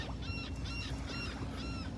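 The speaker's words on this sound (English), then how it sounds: "Listen to the gulls out there." Gulls call over a Gulf beach in North Naples, Florida, a few faint repeated cries drifting in from a distance above a steady wash of surf and wind, with no voices.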